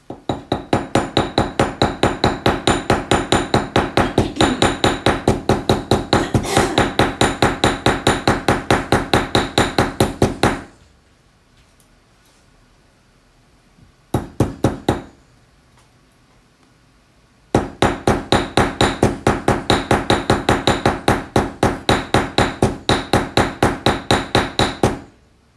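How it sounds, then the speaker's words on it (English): Metal being hammered on a dapping block, a long fast run of sharp ringing blows, then a quiet pause with a short burst, then another steady stretch of rapid close strikes. "and I'm going to hammer it."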